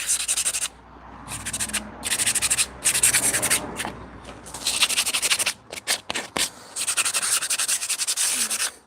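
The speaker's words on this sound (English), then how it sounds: "Where's the sandpaper? Just in case I get a splinter here." Sandpaper rubbed by hand along a soft, white timber slat for a folding bench, making bursts of loud, close, rasping strokes in a steady back-and-forth rhythm with short pauses between passes.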